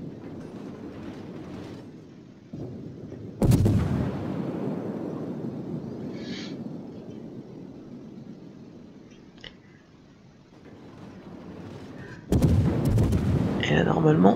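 Heavy warship guns booming in World of Warships aboard the French cruiser Charles Martel, two big salvos several seconds apart, each a sudden loud blast trailing into a long rumbling roar, with someone talking throughout.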